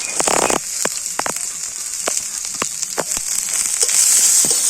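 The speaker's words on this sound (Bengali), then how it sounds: "তো পেঁয়াজটা একটু হালকা করে ভেজে নেব" Thinly sliced onion fries in hot oil in a pan with garlic, giving a loud, steady sizzle with frequent sharp crackles and pops up close.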